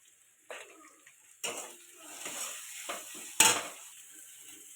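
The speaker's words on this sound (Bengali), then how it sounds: "এটা ভালো করে কষাতে থাকবে।" Spices with chili and salt are stirred and sautéed in a pan for a rohu fish curry with cauliflower, giving soft sizzling punctuated by a few sharp scraping and clinking strikes of a utensil against the pan.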